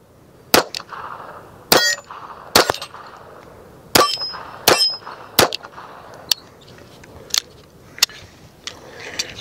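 Handgun firing reloaded ammunition at steel targets outdoors: about ten sharp, loud shots in an uneven string, each followed by a ringing metallic clang from the struck steel, with no talking.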